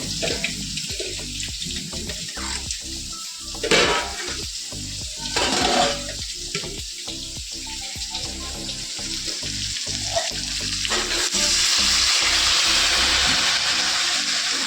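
Cauliflower curry frying in a pan, with water poured in: loud continuous sizzling and bubbling that swells as the water hits, broken by scraping stirs, alone with no voices.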